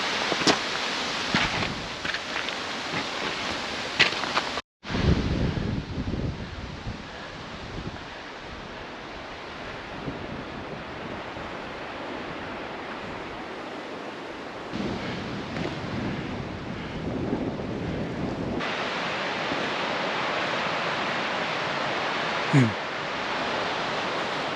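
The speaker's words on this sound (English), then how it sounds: "Look at that little waterfall flowing into stream." A small mountain waterfall pours into a stream, a broad, steady rushing roar heard up close outdoors, briefly cut off once, with wind buffeting the microphone and a person speaking over it.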